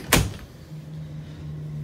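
A large bathroom door in a 28-foot Class C motorhome shuts with one quick, loud thud near the start, followed by a quiet low hum from the vehicle interior.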